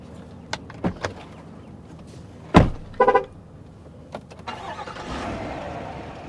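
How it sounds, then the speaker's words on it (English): A GMC Sierra 1500 AT4X pickup truck restarting during an off-road test: a few clicks and knocks, then a sharp starter crank and engine catch, followed by settling idle and light mechanical sounds. "We're gonna restart the truck"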